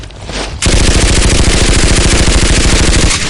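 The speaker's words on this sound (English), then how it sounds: "A massive firefight ensues. Bullets are flying everywhere." Audio drama firefight sound effect: after a brief lead-in, a loud, sustained burst of rapid machine-gun fire rattles continuously for nearly three seconds.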